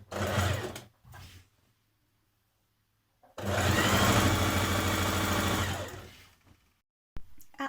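A sewing machine hems a maxi skirt in two bursts of stitching, a short run followed by a longer steady whir of about three seconds, close and clear with quiet pauses between.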